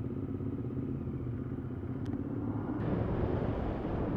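A 2020 Royal Enfield Continental GT 650 motorcycle, 650 engine, with 539 miles on it, rumbles steadily and loudly while riding, the engine note holding strong throughout with a slight rise in intensity toward the end.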